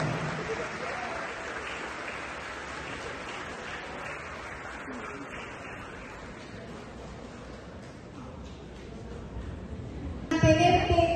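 Steady applause from an audience at a technical high school graduation ceremony in Pinotepa Nacional, Oaxaca, sustained as a broad wash of clapping for about ten seconds before a louder burst near the end.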